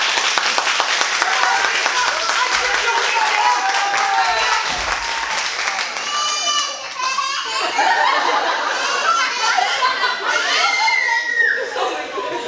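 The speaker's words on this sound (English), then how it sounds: "If you clap hard enough, Hansel will live." Audience at a school production of The Brothers Grimm Spectaculathon claps loudly and continuously for about twelve seconds, with laughter and cheering mixed into the dense applause.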